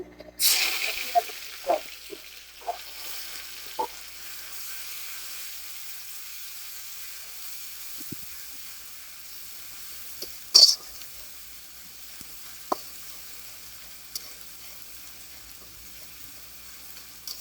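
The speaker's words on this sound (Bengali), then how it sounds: "এটাকে একটু হালকা ভেজে নেবো" Garlic and ground spices fry gently in oil for a bean curry with dried shrimp, a faint, steady sizzle broken by scattered light pops and a few utensil clicks against the pan.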